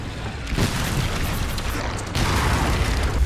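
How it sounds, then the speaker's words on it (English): Mortar fire explosions in the video game Resident Evil 9: dense, continuous booming blasts with a heavy low rumble, loud and close, jumping louder near the end, with no speech. "Leon is now under mortar fire"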